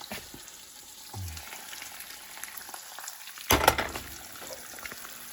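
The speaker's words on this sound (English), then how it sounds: "These eggs are frying up." Soft, steady sizzling of eggs frying in a pan, with a brief louder crackle and scrape partway through.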